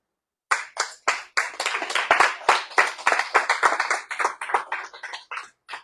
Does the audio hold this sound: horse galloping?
no